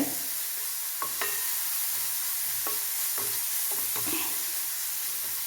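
Masala for a coconut-ground mackerel curry frying in oil until the moisture cooks off and the oil separates, a steady close sizzle broken by scattered scrapes of a spoon stirring in the pan, no voices.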